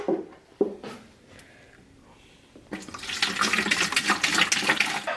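Water being poured into the cooling coil of an AC motor: a few faint knocks and clunks at first, then a loud, splashing, gurgling rush of flowing water for the last couple of seconds.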